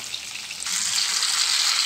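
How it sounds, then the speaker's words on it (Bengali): Steady, bright sizzling of potatoes frying in a hot pan, growing louder partway through and continuing evenly. "এবারে আলুটা ভাজা ভাজা হবে, তারপরে মশলাটা দেব।"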